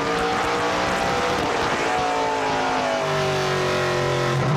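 Onboard a NASCAR Pinty's Series race car driven by LP Dumoulin at Jukasa Motor Speedway, its engine roaring loud and continuous as the pitch rises and shifts through the banking.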